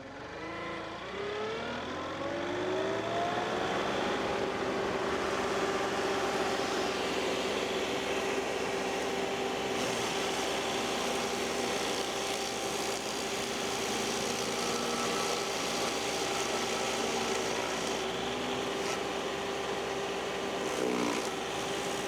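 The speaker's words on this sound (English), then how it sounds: "we will unload the grinder and we will get to grinding" A stump grinder's engine starting up and revving to a steady loud roar, holding a constant pitch with a slight dip near the end, close by and without talk.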